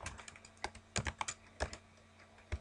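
Fingers tap out a command on a computer keyboard, a quick irregular run of close, crisp keystrokes with brief pauses between clusters, quiet and alone.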